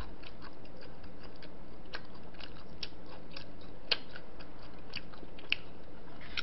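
Someone eating cold jjamppong noodles: soft close chewing and slurping with small crisp ticks and clicks over a steady low background hiss, no talk.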